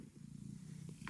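A cat named Carmella purring loudly and steadily up close, a continuous low rumbling throb with no talk over it.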